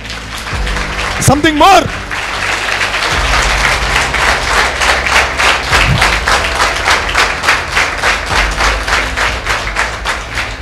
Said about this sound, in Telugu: మీకోసం మీరు క్లాప్ కొట్టుకోండి గట్టిగా.